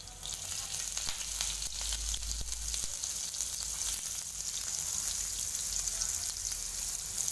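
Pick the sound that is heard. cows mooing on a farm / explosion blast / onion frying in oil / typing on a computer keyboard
onion frying in oil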